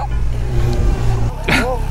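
A Zero FXE electric motorcycle accelerating, heard as a loud, close rising whine and sweep over about two seconds, with people talking around it.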